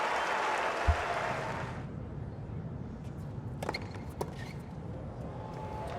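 Applause from a tennis stadium crowd at the Miami Open: a loud burst of clapping fades out after about two seconds, leaving low murmuring ambience with a few scattered sharp clicks.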